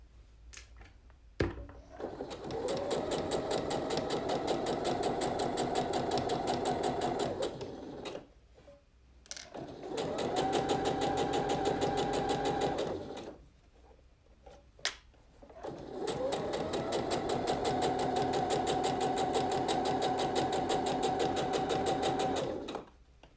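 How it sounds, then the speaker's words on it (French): Sewing machine stitching the hem of a blouse, running in three sustained bursts with brief pauses between, a steady close mechanical whir and rapid needle rhythm, no talking. "Je fais mes points d'arrêt. Et je vais donc coudre mon ourlet."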